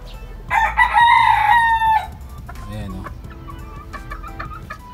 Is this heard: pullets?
yes